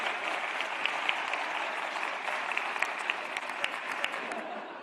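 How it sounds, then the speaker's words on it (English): Audience applause at a talk on designing for a post-carbon economy, sustained even clapping from a large crowd with scattered louder claps throughout, no voices over it. "Did I get the applause?"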